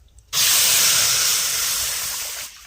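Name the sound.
potato tikki mixture with arrowroot and amchur sizzling in kadhai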